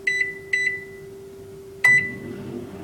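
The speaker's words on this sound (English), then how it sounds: "I'm gonna reheat some of this pasta that I've already put in the microwave." A microwave oven reheating leftover pasta gives a steady low hum throughout, broken by three short electronic beeps from its control panel, two close together near the start and one louder beep later.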